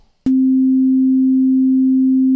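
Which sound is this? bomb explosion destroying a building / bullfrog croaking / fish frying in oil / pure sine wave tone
pure sine wave tone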